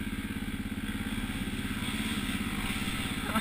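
A dirt bike motor chugs steadily and close by through a river crossing, its low, regular engine pulse with a faint splashing clatter over roughly three seconds.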